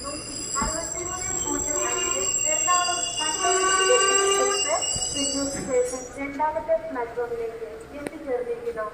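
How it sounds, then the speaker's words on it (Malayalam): An intercity train rolls into platform two at Thrissur railway station, with faint rail rumble and light wheel squeal under a close, continuous voice talking throughout. "തൃശ്ശൂർ റെയിൽവേ സ്റ്റേഷൻ്റെ 2ാമത്തെ പ്ലാറ്റ്ഫോമിലേക്കാണ് നമ്മുടെ ട്രെയിൻ ഇപ്പോൾ എത്തിക്കൊണ്ടിരിക്കുന്നത്"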